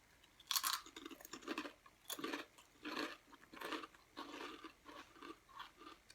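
Close, crisp crunching and chewing of a seaweed tempura snack, a run of irregular bites and munches over about six seconds with no talking.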